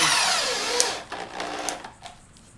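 Power driver spinning screws into 2x4 lumber for a wooden bench, a loud whirring motor run that slows and pauses, then a second shorter burst, close and alone.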